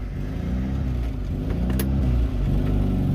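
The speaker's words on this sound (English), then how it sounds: "See how it idles there." A Tracker's newly installed motor idles close by, a steady low rumbling engine throb with a faint uneven pulse, running alone without voices.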